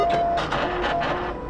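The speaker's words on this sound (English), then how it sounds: "the instrument will make a sound referred to as the happy sound," VITEK 2 microbiology instrument sounding its confirmation tone after the cassette barcode matches the memory module, a steady electronic beep under pulsing mechanical whirring from the machine, close and fairly loud.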